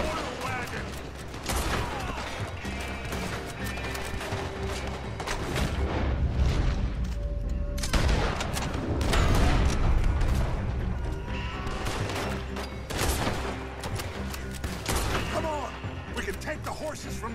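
Dense, sustained gunfire in Red Dead Redemption 2 aimed at an oil wagon, loud overlapping shots and booms running continuously and swelling in the middle, with battle noise layered throughout.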